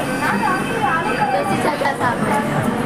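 Mumbai metro train running: a steady rumble and rattle of the carriage, with people talking over it throughout.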